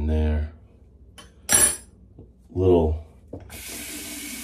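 Warm water runs from a tap into a bowl in a short hissing stream near the end. Before it, voiced sounds and a few clinks of glass or metal are heard up close.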